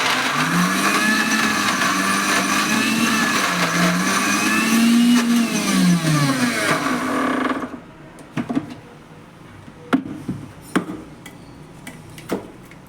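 Kitchen mixer grinder whirring loudly as it grinds ginger and garlic into paste, a steady high motor drone with shifting pitch for several seconds before cutting off, followed by a few scattered clicks and knocks.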